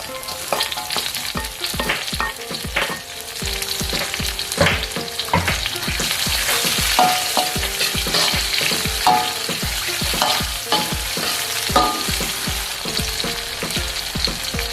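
Garlic, shallots and chilies stir-fry in a hot pan, a loud steady sizzle broken by regular scraping stirs and clanks of the utensil.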